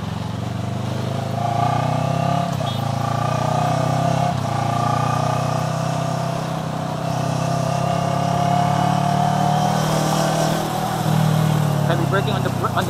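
Motorcycle engine droning steadily at mid pitch while the bike rides on a suspension-tuning test ride, with continuous wind and road noise and a rider speaking over it throughout.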